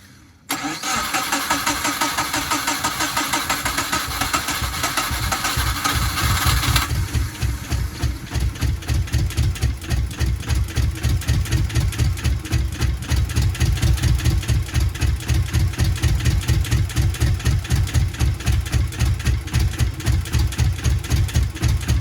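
A Subaru Impreza GC8 engine cranks and catches, then idles roughly with a loud, uneven pulsing thump repeating steadily close by; no talking.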